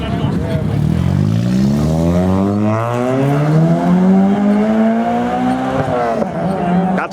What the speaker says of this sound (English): That's a Japanese engine